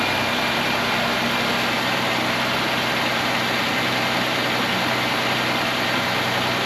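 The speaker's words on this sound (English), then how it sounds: "Well, it's idling properly." A 1994 Buick Regal GS engine idles with a steady, continuous low rumble, unchanging throughout, with no voices.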